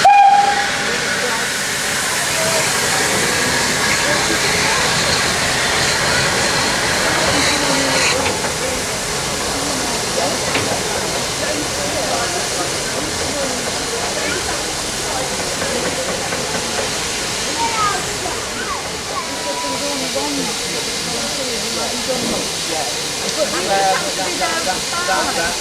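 Restored LMS Black 5 steam locomotive venting a continuous loud hiss of steam at a station platform, with crowd chatter and voices underneath throughout.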